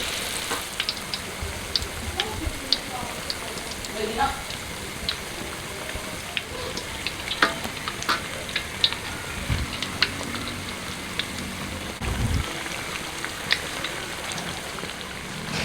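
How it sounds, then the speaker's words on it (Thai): Corn fries in oil over low heat with a steady, close crackling sizzle and scattered sharp pops of spattering oil throughout, with no talking. "ใจเย็นค่อยๆทอดนะไฟอ่อน"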